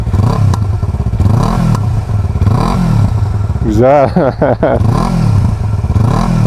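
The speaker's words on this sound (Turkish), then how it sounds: "Tüp olmazsa mesela nasıl bir ses alırsınız?" A Yamaha R25 motorcycle with its muffler removed revs hard and raw in repeated bursts, loud and close, with rattling mechanical clatter; a person laughs and speaks briefly in between.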